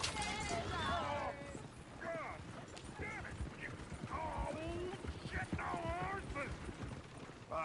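Horse hooves clip-clop steadily in Red Dead Redemption 2, a continuous run of close hoofbeats with mechanical rattles, while voices talk over them.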